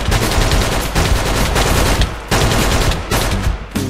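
Loud, sustained video game gunfire in rapid bursts, close and dense, with short gaps between the volleys.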